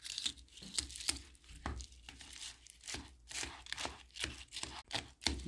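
A spoon stirring Lucky Charms cereal into Yoplait yogurt, close crinkly scraping and clacking strokes in an uneven repeating rhythm, heard alone.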